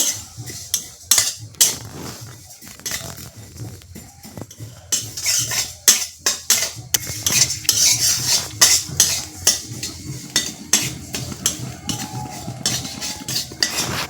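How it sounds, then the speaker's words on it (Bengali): Sesame seeds dry-roast in a pan on a gas stove while a spatula scrapes and stirs, giving repeated sharp metallic clinks and scratches in an uneven rhythm, close up with no talking. "আমার তিল লাগবে তাই আমি এই তিলটা ভেজে নিচ্ছি"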